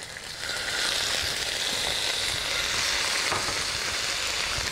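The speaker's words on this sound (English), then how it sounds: "Make sure the oil is nice and hot. Now I'm just going to add my beef, and I want to get that nice and charred" Beef searing in very hot oil for Vietnamese shaking beef, a loud, steady close sizzle and crackle that swells after a brief quieter start and holds without letup.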